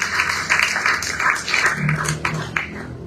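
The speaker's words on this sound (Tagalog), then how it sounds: "Sa malakas na palakpak po sa ating mahal na Panginoon." Hand clapping rises from a congregation at a Sunday church service, a run of uneven, moderately loud claps in a roomy hall, thinning out toward the end.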